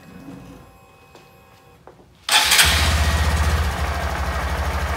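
After a short quiet stretch of faint clicks, a Honda Grom motorcycle engine with a modified airbox cranks and starts, settling into a loud, steady, chugging idle close by.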